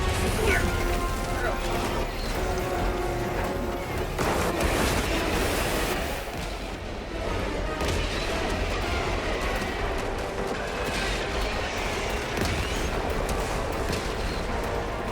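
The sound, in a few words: orbital barrage explosions in video game Helldivers 2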